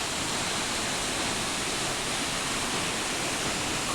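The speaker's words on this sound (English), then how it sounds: "Bear Creek Falls is what this is called." Bear Creek Falls on Colorado's Alpine Loop, a mountain waterfall making a dense, steady roaring rush, loud and close with no voices.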